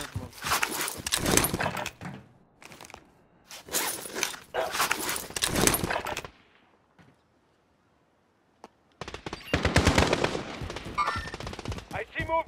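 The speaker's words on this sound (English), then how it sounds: "Oh, I'm getting shot at." Rapid automatic gunfire in a first-person shooter video game, loud bursts of repeated shots separated by brief pauses and a stretch of near silence.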